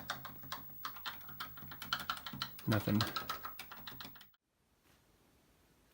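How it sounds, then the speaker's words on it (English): Keys clicking on the keyboard of a 1977 Commodore PET 2001 with suspected bad RAM and ROMs, a quick uneven run of close, sharp presses that thickens into a busier cluster before stopping abruptly into near silence. "I'm going to press some keys and see if anything on screen changes."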